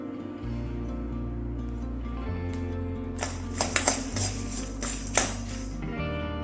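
Coriander seeds, black pepper and other whole spices dry-roasting in a pan, with a steady low sizzle and bursts of metallic scraping and clinking as a spoon stirs them, close and fairly loud.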